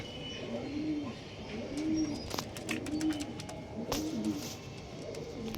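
Pigeons coo in a roughly regular series of soft, low, rolling calls about once a second, somewhat distant, with scattered clicks and rustling around them.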